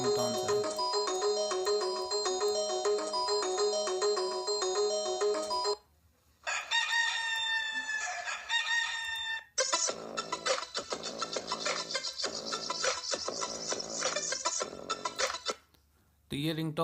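A series of mobile phone ringtones plays in turn, electronic melodies and a crowing-rooster tone, with brief gaps between them, loud and close.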